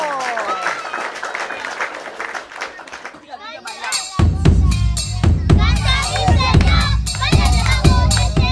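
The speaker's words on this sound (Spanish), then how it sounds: "Oh, aplaudir para Eduardo!" Dense applause and clapping from a classroom or hall audience, loud and continuous, with lively voices and cheering mixed in throughout.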